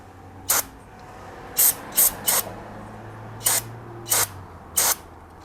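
Seven short, sharp bursts of aerosol brake parts cleaner hiss out at irregular intervals against a quiet background with a low hum, sprayed onto fuel injectors from a 6.2L GMC Yukon.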